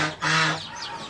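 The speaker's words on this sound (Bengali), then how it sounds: "তো এই যে চীনা হাঁসগুলো এসে পড়ছে দেখেন" Chinese ducks giving a single loud, nasal honking call up close, brief and alone.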